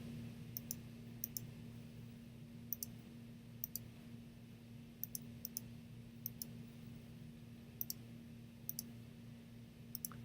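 A computer mouse clicks while the pen tool is used in a drawing program, giving sharp, faint clicks in pairs and small clusters at irregular intervals over a low steady hum.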